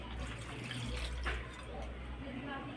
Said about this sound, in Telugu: ఈ వాటర్ని దీంట్లో వేసేద్దాం